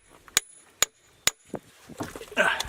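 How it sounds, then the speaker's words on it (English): A hammer strikes an anvil seated in mercury to deaden it, giving three sharp, evenly spaced metallic clinks followed by softer knocks and handling clatter, close and alone. "your anvil sitting in mercury while you're working to deaden that sound"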